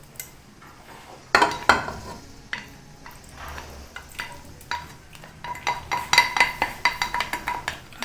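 Small marinated fish pieces fry in a pan, a close sizzle with utensil clinks and scrapes, growing louder and busier in the second half as the pieces are turned.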